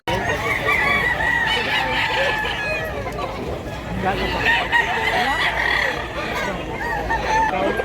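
Roosters crow repeatedly at a rural Cebu fowl market, loud and close, overlapping with clucking hens and people talking in the background.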